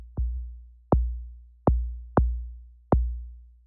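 A synthesized kick drum built from a clean sine wave without distortion, six deep, round thumps with short clicky attacks and decaying low boom, evenly spaced and isolated.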